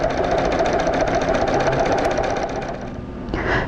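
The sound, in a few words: sewing machine stitching contours on a rug sample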